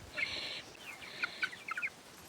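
Young chickens behind a fence give a few high, thin cheeps and soft clucks close by in a quiet yard, in short bursts.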